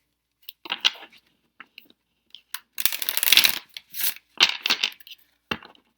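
Tarot cards being shuffled by hand in quiet surroundings, giving bursts of papery riffling and snapping that come in irregular clusters, close and fairly soft, with no talking.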